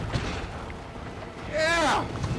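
A grenade explodes in the Resident Evil 3 Remake game, a loud, broad blast near 1.5 seconds that swells for about half a second over a steady bed of game noise.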